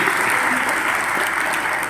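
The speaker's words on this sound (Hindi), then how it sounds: "इसलिए आप यीशु के लिए जोरदार ताली बजा सकते हैं" A church congregation claps loudly during a Hindi-language worship service, a continuous dense wash of applause with no pauses across the short stretch.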